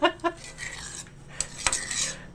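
Spaghetti sauce stirred in a cooking pot: a spoon scrapes and clinks against the metal several times, with a couple of sharper taps near the end, close and fairly quiet.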